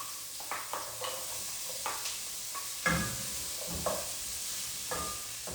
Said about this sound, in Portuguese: aqui a gente vai usar uma cebola picadinha, então já vou colocar pra refogar a manteiga aqui